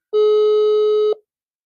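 A single steady electronic telephone tone, about one second long, from an unanswered call, sounding loud and clear on its own before cutting off into silence.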